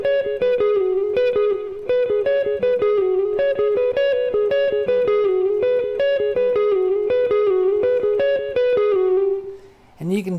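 An electric guitar loops a repetitive solo phrase, cycling the same quick run of picked notes over and over for about ten seconds, loud and upfront with mild drive, then stopping abruptly.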